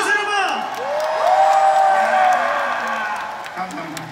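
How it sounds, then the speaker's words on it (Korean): Concert audience in Gyeongju at an afternoon New Year show, cheering and whooping loudly with scattered applause, a steady roar of many voices filling the hall throughout. "박수 한 통이 나왔습니다"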